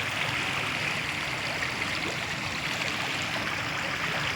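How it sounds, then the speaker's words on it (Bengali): Water pouring in beneath a bridge, a continuous broadband rushing flow that stays loud and even throughout with no voices. "ওই ব্রিজের গুলো জল ঢুকছে।"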